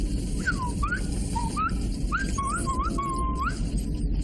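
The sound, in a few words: whistled imitation of bird song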